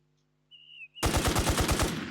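An FN M249 machine gun in the video game Infestation fires at long range: a short electronic tone, then a sudden loud, rapid burst of about ten closely spaced shots lasting roughly a second.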